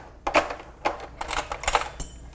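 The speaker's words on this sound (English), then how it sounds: "I'll just take a knife and a fork and I just slice it" Canned chicken being sliced with a knife and fork in a bowl for buffalo chicken dip, a few quiet clinking scrapes and taps of metal against the bowl, close and sparse.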